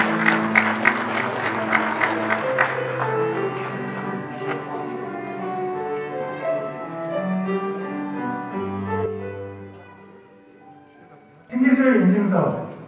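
Applause at a 2022 new technology and new product certificate award ceremony in Korea: a short, loud burst of clapping from the audience follows a stretch of music.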